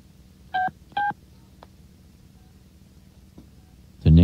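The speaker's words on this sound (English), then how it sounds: "We're going to give a call here this morning." Two crisp DTMF dialing beeps sound in quick succession on a radio station phone line, then a faint blip and a louder tone burst at the end over a quiet hiss.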